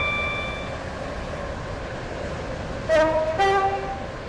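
A Class 44 train on the Stepford County Railway in Roblox runs with a steady, even rumble, joined near the end by two short, tonal horn-like blasts. No one speaks.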